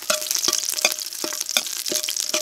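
Garlic sizzling and being stirred in a pan for pochero, a steady hiss of frying broken by rhythmic scraping and clinking of a utensil against the pan, close and loud, with no talk.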